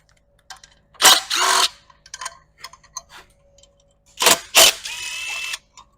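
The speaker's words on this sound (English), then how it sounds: "I'm going to go ahead and remove the chain guard." Tools work on the chain guard of an RPS Hawk 250 motorcycle, giving two loud bursts of ratcheting clicks separated by quieter small metallic taps and rattles, close up with no talk.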